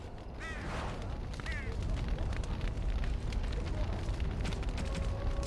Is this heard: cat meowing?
no